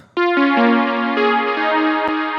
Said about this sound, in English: this is just a Virus JP preset